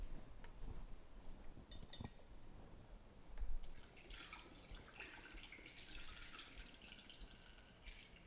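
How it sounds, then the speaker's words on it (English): Dechlorinated water pours into a one-gallon all-grain beer batch to top it up, a steady close splashing stream with a few clinks early on and a louder burst of pouring near the middle, no talking. "I'm just going to get some cleaned, dechlorinated water and top it up."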